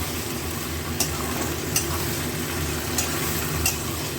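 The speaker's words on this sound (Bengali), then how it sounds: "শুধু ভেন্ডি ভেজে নেব, পুরো তেল নিয়ে নুন টুন কিচ্ছু দেবো না" Okra (bhindi) frying in plenty of oil without salt, a dense, constant sizzle close up, marked by a few faint ticks of a utensil against the pan, with no voices.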